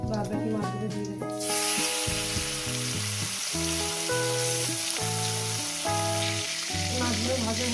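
Pieces of rui fish fry in hot oil for a spicy fish curry, giving off a constant bright sizzle that swells louder after the first second and runs steadily beneath prominent background music.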